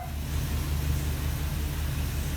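A Ford Econoline E-350 van engine fired by remote start settles into a low, steady idling rumble, fairly quiet and unbroken for a couple of seconds.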